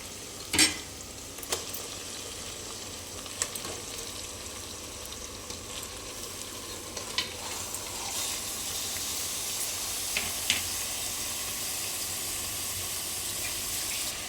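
Fresh, washed mutton frying in a pan while being stirred, giving a steady soft sizzle with scattered scrapes and clinks of the utensil. The sound is fairly faint and close, with no talking.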